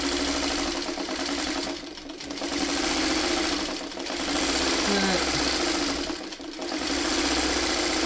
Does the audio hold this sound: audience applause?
no